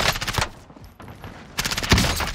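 Bursts of rapid automatic gunfire in Call of Duty on Rebirth Island, one rattling volley at the start and another heavier one after a short pause, with sharp, loud cracks.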